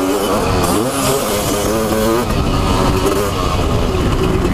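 A Honda CR500 two-stroke motorcycle revs hard and climbs through rising, raspy engine pitch sweeps, loud and close throughout.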